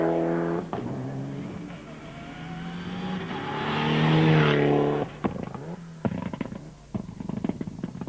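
Mitsubishi rally car blasting through a gravel stage in a Volkswagen rally event, engine revving hard and swelling as it nears, peaking loud, then sharp gear-change pops and bursts as it pulls away.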